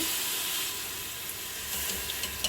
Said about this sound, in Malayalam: ഇതിലേക്ക് കുറച്ച് വെള്ളം ഒഴിച്ച് കൊടുക്കുന്നുണ്ട്